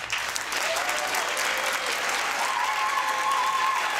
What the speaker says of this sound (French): Donc pour Nicolas, on applaudit maintenant.